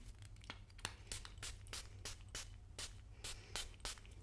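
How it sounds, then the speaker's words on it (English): Several short, close hissing bursts of Kayali Velvet Santal perfume being sprayed onto an arm, each quick puff separated by a brief pause, over a low steady background hum. "I'm gonna spray it on this arm"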